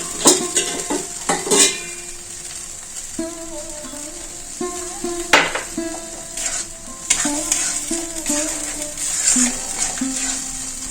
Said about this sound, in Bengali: এই মশলাটা খুব ভালো করে পাক করে নেব।